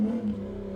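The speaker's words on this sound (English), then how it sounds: "that motorcycle was mad loud" A loud motorcycle engine roaring close by, strongest at the start and then settling into a steady droning hum as it moves on.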